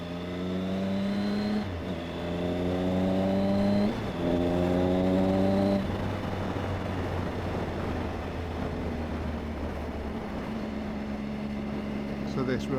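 A Triumph motorcycle engine drones steadily on a country road on the Isle of Wight, its pitch stepping up and down through gear changes with a few throttle surges. Wind noise sits around the engine, and someone talks over it.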